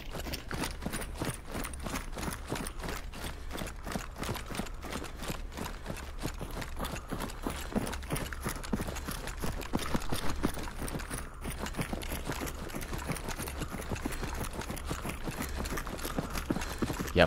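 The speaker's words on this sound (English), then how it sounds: "footsteps were definitely audible from pretty far away there" Player footsteps in the video game Beautiful Light, a steady run of rapid, even steps that continues for the whole stretch at moderate loudness, with no talk over it.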